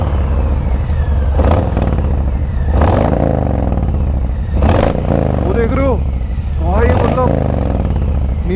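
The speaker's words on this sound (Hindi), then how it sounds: "हल्के से रेव दे के देखेंगे बाइक को" A superbike engine idles with a heavy, steady rumble, blipped gently into several short revs that rise and fall at an unhurried rhythm; voices talk over it.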